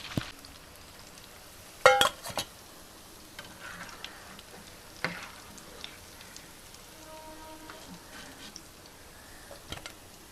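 Chicken lollipops fry in hot oil with a steady crackling sizzle, a few louder pops and bubbling bursts standing out near the start, and no talk over it.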